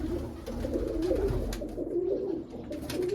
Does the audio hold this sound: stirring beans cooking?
no